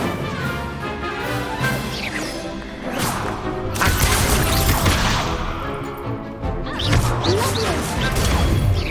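Incendio fire spell cast during combat in Hogwarts Legacy, heard as whooshing, crashing impacts and bursts layered over busy game noise, with voices speaking at times.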